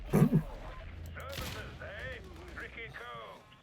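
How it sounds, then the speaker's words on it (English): Hero's Burden 900 RPM SMG from the Swords Foundry firing in Warhammer 40K Darktide, a short rapid burst near the start, then game sounds and voices talking over the rest. "This Hero's Burden is a 900 RPM SMG from the Swords Foundry that rips through heads because it's super low recoil"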